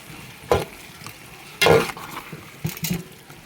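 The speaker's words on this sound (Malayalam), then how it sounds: "ഇടയ്ക്ക് നമ്മളിതുപോലെ ഇളക്കി കൊടുത്തുകൊണ്ടിരിക്കണം" Tomato paste being stirred into a frying biryani masala in a pan: three distinct scraping, squelching stirs under a soft sizzle, close and fairly loud, with no talking.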